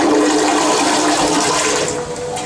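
A toilet flushes loudly and continuously nearby, a rushing swirl of water that fills the whole stretch before easing slightly at the end.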